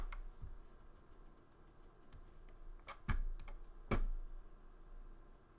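A few quick, quiet clicks of computer keyboard keys pressed together for the Windows screenshot shortcut, with a pair of louder taps near the end over a faint room hum.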